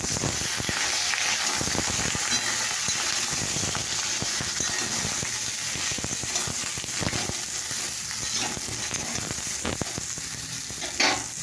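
Cut eggplant pieces fry in hot oil with a loud, continuous crackling sizzle, punctuated by occasional stirring scrapes and a brief knock near the end.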